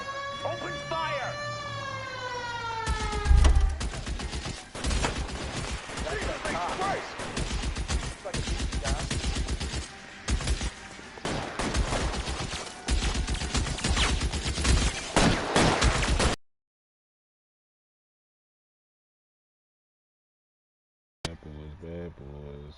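Heavy gunfire in a video game shootout in L.A. Noire, dense overlapping shots over about sixteen seconds with music and a voice mixed in, then silence and a brief sound at the end.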